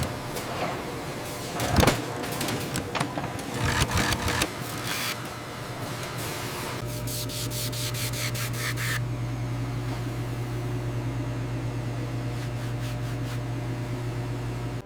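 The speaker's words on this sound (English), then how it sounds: "Pneumatic wipers smooth the leather along the arch. Then, the rotating trimming knife secures the heel seat" Pneumatic wipers and a rotating trimming knife work an ostrich leather boot on a factory lasting machine. Rubbing and scraping bursts give way to a steady mechanical hum with brief rattling pulses, fairly close.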